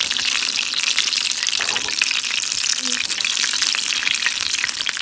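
Choco Krispis-coated ice cream frying in hot oil, giving a steady, loud, close crackling sizzle with dense bubbling that runs throughout, and a faint voice murmurs briefly in the background.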